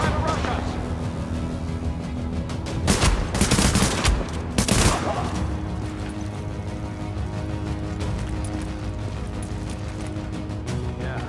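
Gunfire in the video game The Division, two loud bursts of rapid shots over a steady game soundscape, with no talking.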